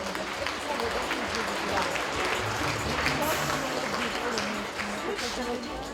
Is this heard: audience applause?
yes